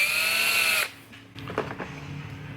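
A power drill whines steadily at high speed, then stops, followed by a few close clatters and scraping sounds from the bit and workpiece.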